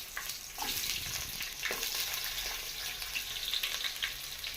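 Onions frying in a pot of spiced oil for bagara rice make a steady, close, crackling sizzle, with a few louder stirring bursts near the start.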